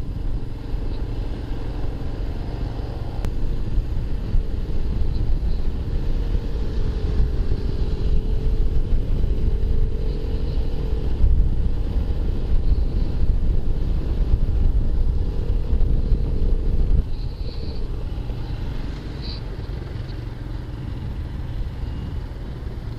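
A Royal Enfield Himalayan motorcycle cruises along a road, its engine a steady low rumble under heavy wind noise buffeting the microphone throughout, continuous and close.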